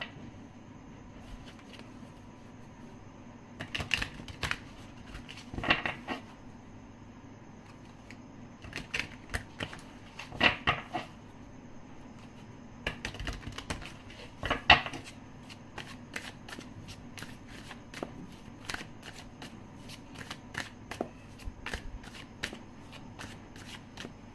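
A tarot card deck being shuffled in repeated bursts of crisp riffling and flicking, close and fairly quiet, with short pauses between rounds over a low steady room hum.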